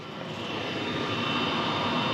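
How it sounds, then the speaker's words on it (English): An electric fan on a 240v appliance running off a lithium battery system roars at a steady, loud, broadband rush, like a jet blast, continuous and close with no talk. "that fan is starting to kick in now"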